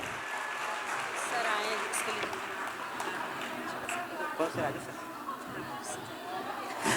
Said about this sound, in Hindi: जोरदार तालियां हमारे टॉपर्स के लिए।